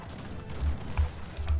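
Muffled booms and bursts of gunfire thump in quick succession, punchy and close, with a faint crackle of distant shots, in the video game Cossacks 3.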